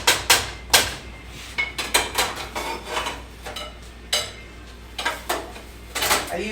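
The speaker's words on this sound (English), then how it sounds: "So my pan is cold, and now I'm putting my bacon in there" Strips of bacon laid into a cold pan, with a series of sharp clinks and scrapes of metal against the pan at an irregular rhythm, close and fairly loud, with no sizzle.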